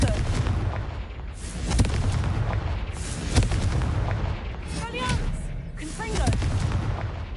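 Fiery blasts of the Confringo explosive spell in Hogwarts Legacy, several loud booming bursts spread across the stretch over constant battle noise, with whooshing magical swirls near the end.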